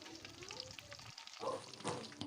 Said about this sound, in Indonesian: Kita goreng sampai ikan asinnya kriuk